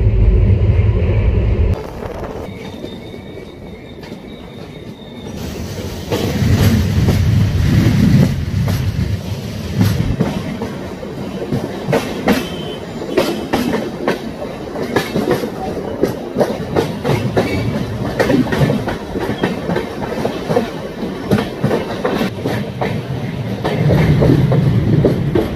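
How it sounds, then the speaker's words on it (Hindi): The Avadh Assam Express rolls along the tracks toward Tinsukia, a loud sustained rumble with rhythmic clickety-clack of wheels over rail joints and passing wind buffeting, heard from on board without talk. "हमारी ट्रेन तिनसुकिया बस इंटर करने वाली है"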